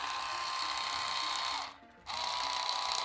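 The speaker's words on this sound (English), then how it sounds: "The screwdriver is working perfectly fine." A small electric screwdriver whirs steadily with a buzzing, ratcheting motor tone, stops briefly, then starts up again at full speed, close and loud with no voices.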